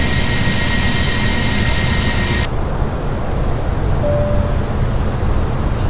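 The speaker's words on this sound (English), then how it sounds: "Now we Gear are as you can see, the gear is coming down." A flight-simulator airliner lowering its landing gear on approach from Chennai to Hyderabad, a steady loud jet-engine roar that shifts partway through to a duller, quieter rumble with a faint tone, no voices.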